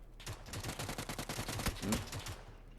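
Old PUBG gunfire: a rapid automatic burst of about twenty evenly spaced shots over roughly two seconds, crisp and moderately loud, then trailing off into silence.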